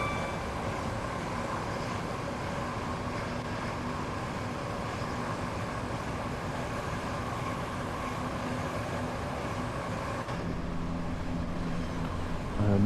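A Javelin train passing by in Train Sim World 2, heard as a steady, loud rolling rumble with a faint whine that holds for about ten seconds before the sound shifts near the end.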